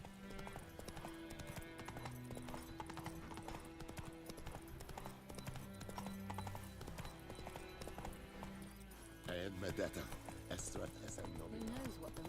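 Horse hooves clip-clop steadily through a galloping ride in The Witcher 3, with occasional neighs and a game music score running underneath; the rhythm stays constant across the whole stretch.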